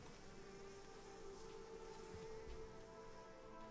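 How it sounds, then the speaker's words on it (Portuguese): Bees in the survival game Planet Nomads buzz in a dense, steady swarm drone that holds for a few seconds with slight wavering, close and continuous, with no voices. "essas abelhas estão atacando a gente, é isso?"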